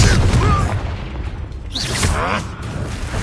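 Booming magical blasts from the Confringo spell in Hogwarts Legacy, a few loud bursts and whooshes in a dueling fight, with a voice speaking over parts of it.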